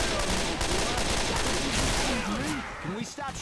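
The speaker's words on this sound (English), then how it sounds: "Can we stop shooting?" Sustained gunfire rattles through a zombie shooter match in Left 4 Dead 2, with dense, continuous shots under overlapping players' voices and in-game chatter.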